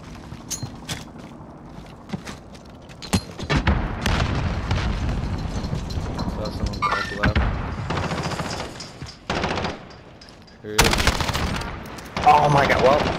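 Loud gunfire in a video game gunfight, with bursts of repeated shots and heavier blasts that come and go across the clip, mixed with players talking.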